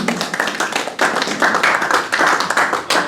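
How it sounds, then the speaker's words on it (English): Applause from a small audience at a live magic lecture after an arm-twisting illusion, close, uneven handclaps coming in several bursts with brief dips between them. "Give him a big round of applause"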